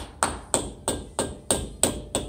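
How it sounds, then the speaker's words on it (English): A hammer gives seven evenly spaced, sharp metallic taps on front brake parts of an Isuzu NPR HD truck, close up and steady in rhythm with no talk. "Not just by hand, but also slight hammer tap"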